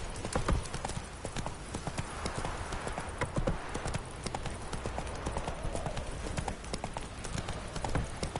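Horse galloping in the video game The Witcher 3, rapid rhythmic hoofbeats pounding continuously and close throughout, with a faint background wash.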